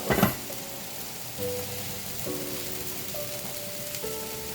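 Broccoli sizzling in a hot pan for chicken alfredo while being stirred, a steady crackling fry with a clatter as it drops in and occasional utensil scrapes, close and moderate.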